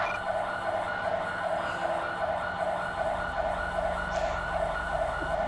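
An ambulance siren in GTA V with the LSPDFR mod wails in a steady repeating cycle, fairly loud and continuous throughout, with a low engine rumble beneath and no talk.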